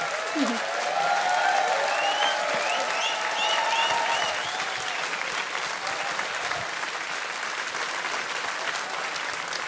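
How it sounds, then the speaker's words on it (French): Sustained audience applause during a conversation about art, language and politics, a dense steady wash of many hands clapping at close range, with voices talking faintly beneath it. "Je sais que t'aimes pas être applaudi et mise en scène"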